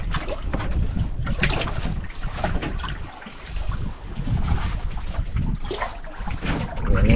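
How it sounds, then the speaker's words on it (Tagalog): Strong wind buffets the microphone in steady gusts while fishing for grouper, a loud rumbling roar with a brief lull midway, and no voices. "Yan yung hangin."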